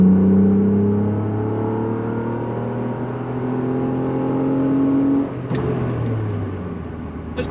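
A car pulls in second gear, its engine droning loud and steady from inside the cabin, the pitch rising gradually before a short shift-like dip near the end.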